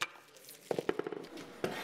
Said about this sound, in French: Avec un ciseau à bois, tu peux détacher le morceau inférieur.